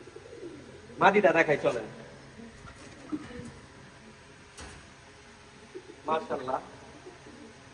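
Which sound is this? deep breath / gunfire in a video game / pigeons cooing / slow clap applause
pigeons cooing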